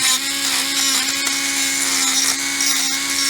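A power tool sands and smooths a bullet button, a loud, steady high-pitched whine with a constant motor drone that holds evenly throughout.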